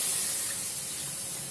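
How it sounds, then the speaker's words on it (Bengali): Water sizzling and hissing as it is poured into a hot wok coated with rice flour, a steady close steamy spray that slowly fades over a second and a half. "কড়াইতে এবার একটুখানি জল দিয়ে দেব"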